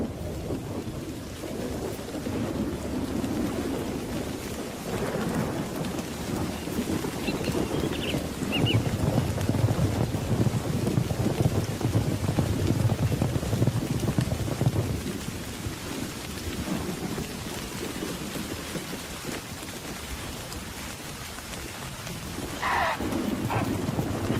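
Steady rain pours down on the African savannah while low thunder rumbles and rolls, swelling in the middle before easing, with a brief higher rattle near the end.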